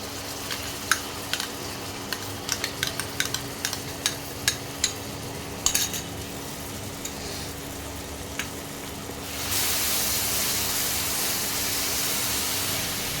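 A paste of sour yogurt, melon seeds and cashews goes into a hot pan with chilies, and the pan bursts into a loud, steady hiss. Before that comes a low murmur of gentle bubbling broken by scattered sharp pops and crackles.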